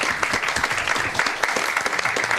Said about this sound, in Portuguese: Palmas para os caras